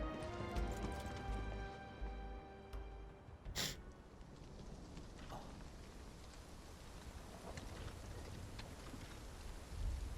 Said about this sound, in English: But it is raining now.